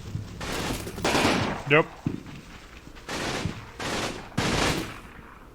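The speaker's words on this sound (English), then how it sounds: "That sounded like a machine gun." Machine gun fire in the World War II video game Combat Mission Rome to Victory, during the Celleno campaign: several sharp, loud bursts separated by short pauses, with one brief spoken word between them.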